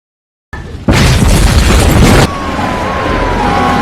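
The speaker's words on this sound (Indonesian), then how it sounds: "ledakan besar kembali terjadi" A big explosion in a film scene erupts after a short lead-in, a loud sustained roar for over a second that settles into a rumbling fire with a faint siren-like tone trailing underneath.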